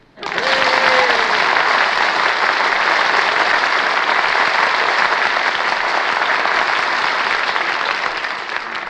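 Studio audience applause on the 1949 Kraft Music Hall radio show, a loud, dense roar of clapping that swells in abruptly and sustains evenly for several seconds, with a brief voice heard as it begins.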